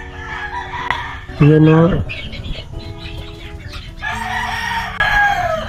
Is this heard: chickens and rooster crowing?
yes